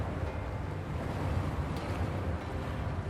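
Water drains away in Wuthering Waves as a steady, broad rushing wash, even and continuous throughout, with no talk over it.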